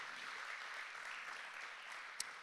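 A church congregation applauding during a Spanish-language Christmas sermon, a soft, distant wash of many hands clapping steadily throughout, with no speech over it.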